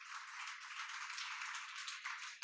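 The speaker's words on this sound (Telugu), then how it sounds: "కొట్టి చప్పట్లు కాస్త గట్టిగా" A church congregation claps hands together in a steady, dense wash of applause that sounds fairly distant and quiet, continuing without pause for the whole stretch.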